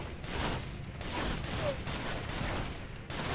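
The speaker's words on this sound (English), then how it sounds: "I can hear their gunfire." Distant gunfire sounds in the shooter game Far Cry 2: a few faint, sharp bursts spread unevenly over a quiet, hissy background.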